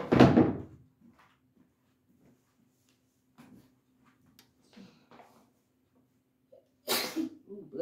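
A single sharp sneeze bursts out close and loud at the start, followed by quiet room sounds and a later thump like a door or cupboard.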